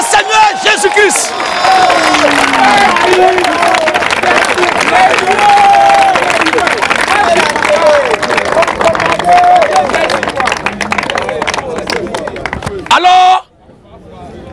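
Congregation at a Christian gathering applauds and cheers loudly and continuously in acclamation of Jesus Christ, a dense crowd roar of clapping, shouts and babble that holds steady for about thirteen seconds before cutting off abruptly.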